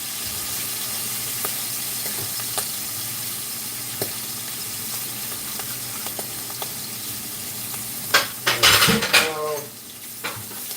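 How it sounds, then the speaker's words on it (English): Dirty plates are set aside in a home kitchen during dinner cooking, with a few sharp ceramic clinks and clatters near the end over a constant background sizzle of frying food. "Just putting my dirty plates to the side for now so that I can clean them up a little later."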